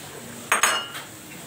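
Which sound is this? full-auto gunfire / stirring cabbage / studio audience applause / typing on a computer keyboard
stirring cabbage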